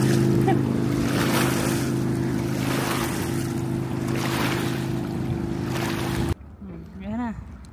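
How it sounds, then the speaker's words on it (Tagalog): Waves grow stronger and wash against a shore near Calgary, a loud surging rush over the steady hum of a passing motorboat. The sound cuts off abruptly near the end, and a voice then speaks briefly over quieter background. "Dahil lumakas yung alon."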